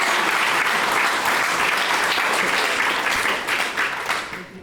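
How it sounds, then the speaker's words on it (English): Audience applause fills a tribute event hall, dense and loud throughout before thinning slightly near the end, with no voices over it. "Please join me in a round of applause."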